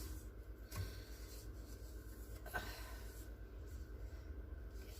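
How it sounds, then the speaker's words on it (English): A spatula scrapes the sides of a bowl of chocolate buttercream frosting with steady rubbing, rasping strokes, close up, broken by a couple of sharper knocks against the bowl. "I am going to scrape the walls, move everything down into the bowl"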